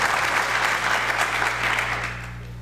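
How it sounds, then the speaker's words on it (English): Dense, steady audience applause at a school district leadership retreat welcoming a newly appointed interim elementary principal, loud and continuous, tapering slightly toward the end over a low hum. "yes, you can give him a round of applause now"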